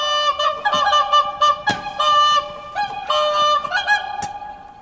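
Loud honking goose-like bird calls repeat in uneven bursts, harsh and nasal, close and clear with no talk.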